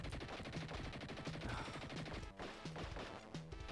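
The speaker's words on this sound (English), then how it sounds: "He shot me, how dare he." Gunfire in the Dick Tracy Mega Drive game: rapid, rhythmic electronic shot bursts repeat over chiptune music, fairly quiet overall.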